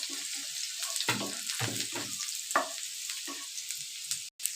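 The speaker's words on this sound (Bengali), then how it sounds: "আদা কুচি রসুন কুচিটাকে ফ্রাই করে নেব 1 মিনিট।" Chopped ginger and garlic fry in a pan, giving a constant hiss overlaid by repeated bursts of stirring and scraping spaced about a second apart, with a brief gap near the end.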